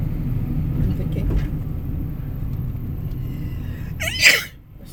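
A single sharp sneeze bursts out near the end, close and loud, after several seconds of low rumbling traffic.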